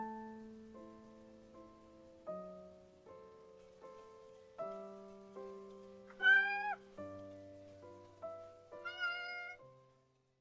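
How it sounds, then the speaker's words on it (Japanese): A house cat named Jiro gives a couple of drawn-out, warbling meows over soft, evenly spaced piano notes that ring and fade. "次郎がまた、いい声で、にゃーんと返事をしてくれた"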